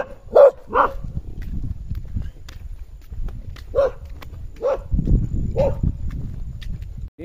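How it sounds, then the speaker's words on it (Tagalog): Dogs on the slopes of Mt Banahaw give several separate barks spread across the stretch, with a few scuffing footsteps and low background noise between them. "Umaatak ang mga aso."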